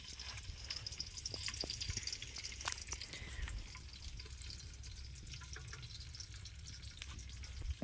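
Pork pieces frying in sunflower oil in a pan outdoors in a village, a steady close sizzle with occasional stirring scrapes and drips running throughout.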